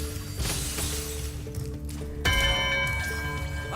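A bell rings out in Spyro 2: Ripto's Rage, a bright chiming tone over steady game music and mechanical clanking, sounding loud and without any voices.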